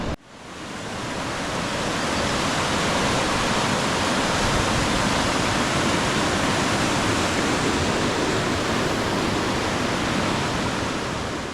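A tiny river in the middle of the continent rushes loudly and steadily, a dense broadband wash of flowing water with no voices over it.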